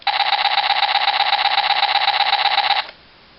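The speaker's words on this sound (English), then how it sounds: "You get a rapid fire gunshot" A toy DX Ride Booker fires a rapid electronic gunshot burst, a fast even pulsing stream lasting under three seconds before cutting off abruptly, loud and alone.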